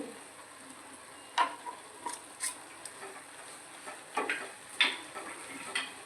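Carrot halwa with milk powder is stirred in a pan, giving soft, irregular scraping ticks and light clinks at close range over a faint sizzle, quiet and without speech.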